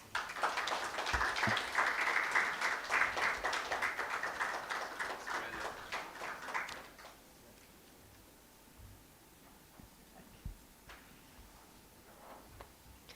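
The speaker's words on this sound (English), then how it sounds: "Maybe please felicitate sir with a huge round of applause." Dense applause from a crowd, loud and sustained for several seconds before cutting off abruptly, followed by quiet room noise with a few faint knocks.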